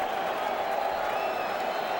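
A stadium crowd at an Oakland Raiders NFL playoff game against the New York Jets voices disapproval as a steady, loud wall of massed noise that holds level throughout without clear breaks.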